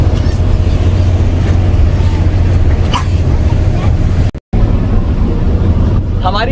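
Steady engine drone and rushing water and wind on the free Galveston, Texas ferry, loud and continuous with a brief dropout.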